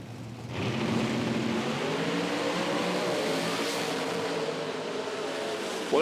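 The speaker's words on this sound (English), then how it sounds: "that car moving around for an instant, he had to bring it back and did so." Nitro drag racing car on an IHRA outlaw series strip at Dinwiddie, Virginia, a loud sustained engine roar that builds quickly and holds steady as it accelerates down the track.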